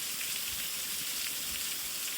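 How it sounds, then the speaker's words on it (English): Heavy rain during a thunderstorm pours down in a steady, dense hiss with no break, close and even throughout, no voices. "It's like just a lot of rain for a while."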